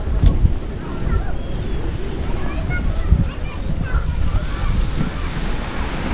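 Wind gusts across the microphone beside the sea, a steady low roaring rush with surf-like wash, loud and continuous for the whole stretch.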